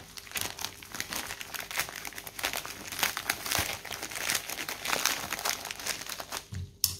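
Steady, close crinkling and tearing of plastic and paper wrapping as a package of cross-stitch accessories is opened, continuous for several seconds with scattered sharper crackles.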